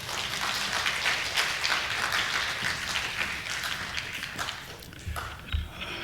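A church congregation at a Wednesday worship service applauds warmly, a dense, even patter of many hands at moderate distance that thins toward the end with a few soft thumps.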